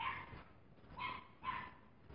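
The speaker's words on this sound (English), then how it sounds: "you hear that little dog" A small dog barks outside an open window, three sharp yips spaced about half a second apart, faint and distant, with no one speaking.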